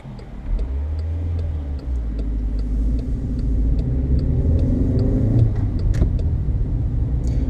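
A Skoda Fabia driving in fifth gear on the autobahn, its engine a steady, loud drone with road and wind rumble throughout and no talking.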